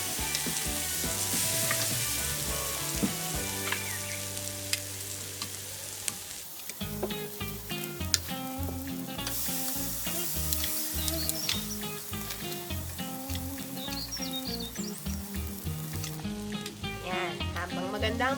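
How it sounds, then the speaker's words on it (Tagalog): Pork chops sizzle over low charcoal coals on a backyard barbecue grill, a steady frying hiss carried underneath prominent background music throughout. "Ihawin na natin yung pork chop."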